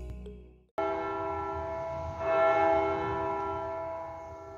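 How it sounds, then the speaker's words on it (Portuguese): A church bell in João Neiva, Espírito Santo, Brazil, rings out with a sustained, resonant hum after a sudden strike, swelling briefly midway and slowly fading, heard alone from a moderate distance. "E eu cheguei bem na hora do sino bater."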